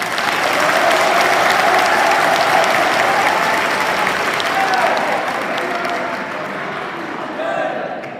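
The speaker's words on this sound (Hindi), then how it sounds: "तो फिर आपकी तालियां कमजोर है इस पंक्ति पर" A large audience at a college poetry recital in Asind claps in a loud, sustained roar of applause with crowd murmur underneath, easing slightly toward the end.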